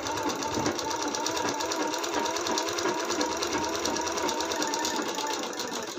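A sewing machine stitches a long-sleeved blouse at home, running in one steady, close, unbroken whir for the whole stretch.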